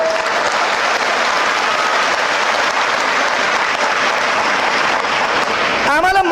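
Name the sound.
audience applause at a speech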